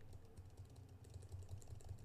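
Keys tapping on a computer keyboard while entering input into a web app form field, a quiet, steady run of soft clicks with no talking.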